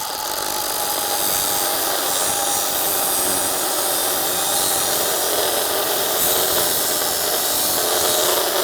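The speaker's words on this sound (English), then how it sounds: "I'm just gonna cut 1 coil and hope for the best." A power tool grinds through a coil spring from a Dodge truck, a loud continuous high whine and hiss of cutting metal held without pause from start to finish.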